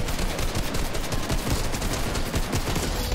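Continuous rapid gunfire from shooting enemies in the Fortnite video game, a dense, steady barrage of loud shots filling the whole moment with no talking over it.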